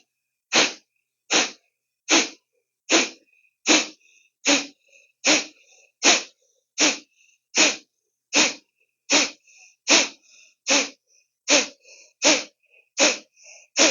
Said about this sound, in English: Pumping at the belly. Inhale is passive, exhale is forceful.